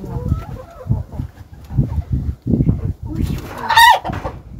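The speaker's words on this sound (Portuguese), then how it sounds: "Olha a galinha." Chickens cluck and squawk close by in a countryside yard, with a burst of louder, higher cackling near the end, mixed with people talking.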